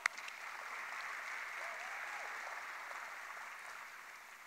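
Audience at an indoor tennis center dedication ceremony applauds, a steady, even patter of many hands heard from a distance, fairly faint and fading gently at the close.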